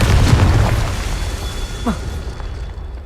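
A Confringo explosive spell goes off in Hogwarts Legacy as one loud low boom that fades into a rumbling tail, followed by a faint whoosh, heard alone with no voices.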